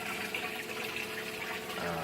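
Water from a 4-inch hydroponics return line pours steadily into a reservoir, a continuous close splashing rush with no breaks, heard alone on a West Virginia hydroponic setup.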